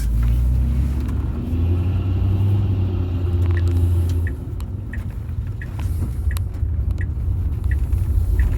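A Tesla car accelerating hard gives a steady, loud low rumble that swells and holds before easing, with no talk over it.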